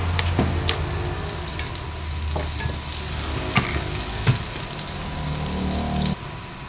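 Onions sautéing in a pan for Filipino ginisang gulay give off a steady, soft frying sizzle. Occasional scrapes of stirring sound throughout, the hiss drops slightly near the end, and no voices are heard.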